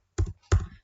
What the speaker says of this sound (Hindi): इतना करने के बाद आप कीबोर्ड से F2 ही प्रेस कर सकते हैं